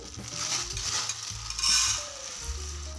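Moong dal being dry-roasted and stirred in a pan, a soft rustling scrape with light metallic clinks, close up over a low background hum.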